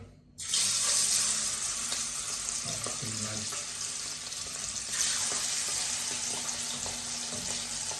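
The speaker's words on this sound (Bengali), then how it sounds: "সুন্দর ফ্রাই হচ্ছে এখানে ফ্রায়ারে।" Quail pieces go into hot, smoking oil in a fryer, setting off a sudden loud hiss that settles into a dense, steady sizzle close by, with a few soft knocks near the start.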